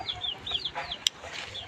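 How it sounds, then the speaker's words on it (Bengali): Desi chickens kept on a cattle farm, clucking repeatedly in short rising calls at close range, with a sharp click partway through and no talking. "যেগুলো হচ্ছে আমাদের দেশি মুরগি।"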